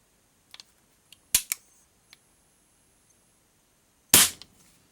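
Shots from an HW30S air rifle fired over a chronograph on a bench: two sharp spring-piston cracks several seconds apart, with a few faint clicks and small mechanical ticks between them.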